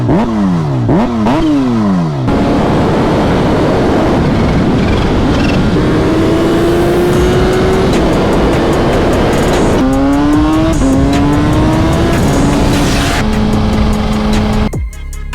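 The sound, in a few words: supercharged Kawasaki Ninja H2 motorcycle engine building boost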